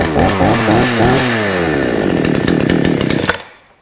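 A Baumr-Ag GCS6200 chainsaw engine catches after a flooded start with the choke in. It revs loud and close, rising and falling in pitch, then settles into a steady buzz before cutting out at the end.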